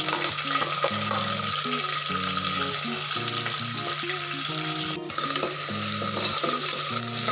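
Curry leaves crackle and sizzle in hot oil, a steady close hiss with bursts of spitting, while tonal background music plays throughout.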